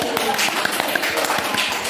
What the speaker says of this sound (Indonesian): Tepuk tangan buat Mbak Naila dan Mbak Mas Fikri.